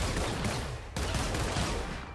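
Heavy Cannon weapon from a superhero hero-pack game mod firing in a loud, dense barrage of booming shots, broken by a brief pause just before the midpoint before resuming steadily.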